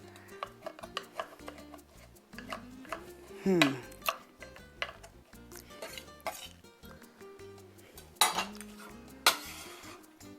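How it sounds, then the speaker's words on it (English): A knife chops vegetables for vegetarian tamales, giving irregular clacks and scrapes on a cutting board with a few louder clanks of utensils, close and quiet with no talking. "I'm just gonna chop it down a little bit more"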